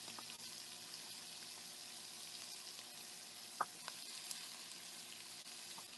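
Poblano pepper, onion and serrano chile sweat in a pot for chicken tortilla soup, giving a faint, steady hiss with a couple of small knocks, fairly quiet and without speech.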